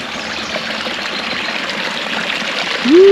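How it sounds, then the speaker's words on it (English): A babbling brook welling straight out of the ground at a Wisconsin campsite, a steady close trickle and gurgle of running water that briefly gives way to a sudden tone at the end. "Oh, I hear a babbling brook."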